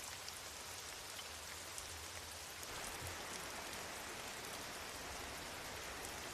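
Heavy rain pours down steadily, a dense, even wash of hissing noise on surfaces that continues without pause and without voices.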